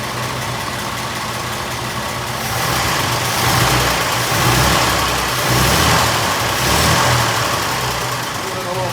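An antique car engine idles on its newly finished fuel and exhaust systems, a steady close rumble that swells gently a few times, with no talk over it.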